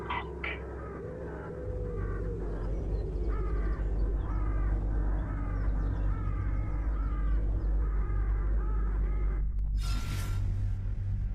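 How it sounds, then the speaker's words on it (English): Looping ambient birdsong with repeated crow-like caws over a steady low wind rumble in a film soundtrack, with a brief whooshing gust near the end. "overlaying these looping ambient bird sound effects and wind whistles with little to no adjustment on the levels"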